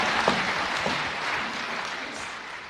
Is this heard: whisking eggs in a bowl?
no